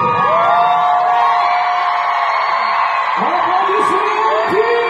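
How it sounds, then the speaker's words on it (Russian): A concert crowd whoops, shouts and cheers loudly and continuously, dense and close, with a singer's or host's voice riding over the crowd noise. "Аплодисменты!"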